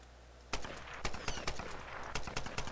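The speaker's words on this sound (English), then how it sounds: "You can see it shooting a machine gun right now." Rapid machine-gun fire in the video game Tomb Raider, bursts of sharp cracking shots following one another over a low background hum, fairly close and loud.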